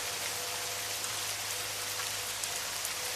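Steady rain falls at night in an even, dense hiss of drops on surfaces, soft and continuous throughout with no talk.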